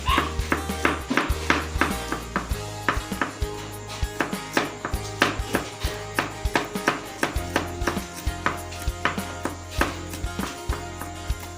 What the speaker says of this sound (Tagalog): Let's chop it.